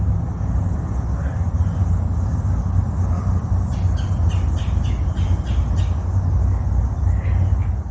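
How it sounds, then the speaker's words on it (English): A woodpecker calls over a marsh with a cypress dome in Grassy Waters Preserve, sending a quick run of sharp, squeaky notes partway through over a steady background hum. "I believe that's a woodpecker."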